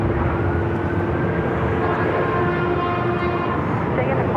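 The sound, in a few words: Airbus A380 taxiing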